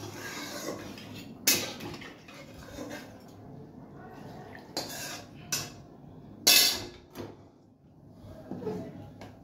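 Spices are stirred into food in a pot: soft scraping and shuffling under a quiet background, broken by a few sharp metallic clanks of a utensil against the pot.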